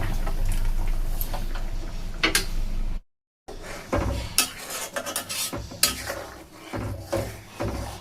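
A utensil stirs fried bitter gourd with a ground poppy seed and cashew paste in a cooking pan, making repeated close scraping and clinking strokes with a light sizzle and one brief silent break.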